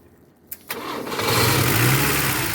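A GAZelle van engine is started: a couple of sharp clicks, a brief crank, then the engine catches and settles into a loud, steady idle close by.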